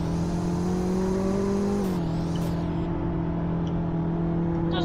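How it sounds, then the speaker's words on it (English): A Nissan Altima 2-liter turbo engine in the Roblox game Greenville, a steady droning hum that dips slightly in pitch midway and then holds, loud and constant throughout. "It's the Nissan Altima 2-liter turbo platinum model."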